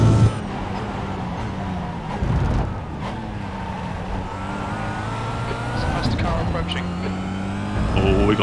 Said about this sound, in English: Got a Cadillac coming through.